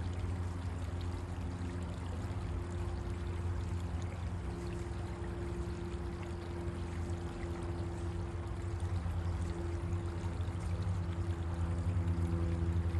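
Water flows and pours steadily in a constant, even rush with no breaks, with a low droning hum running beneath it and no voices.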